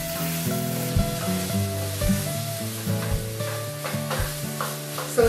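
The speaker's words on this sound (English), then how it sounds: "you just really want to cook it until you're happy with the degree of doneness of your vegetables" Vegetables and apples fry in Madras curry paste, a continuous sizzle with regular stirring scrapes over a steady background hum.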